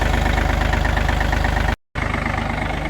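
A John Deere 3038E compact tractor engine idles after servicing, a steady, close, rhythmic chugging that cuts out for a split second and then resumes at the same even pace.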